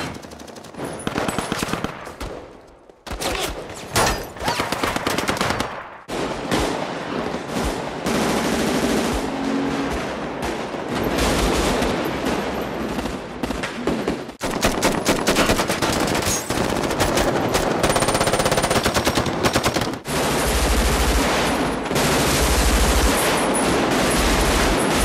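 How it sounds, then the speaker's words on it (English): Sustained automatic gunfire from the street bank-heist shootout in the film Heat, loud bursts of rapid machine-gun fire with sharp shots and echoes filling nearly the whole stretch, no speech. "when it comes to the audio of a live shootout, Heat really plays in its own league"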